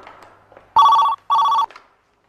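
A telephone bell rings in two loud, even bursts with a short gap between them, close by, against a quiet room with faint background murmur.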